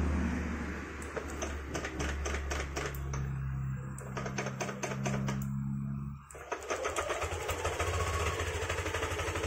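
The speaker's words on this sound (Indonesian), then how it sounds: "Sekarang coba kita starter dulu." A Yamaha Aerox scooter engine is started with its electric starter and settles into a steady, close idle with a rapid mechanical rattle. There is a brief dip near the end before it runs on.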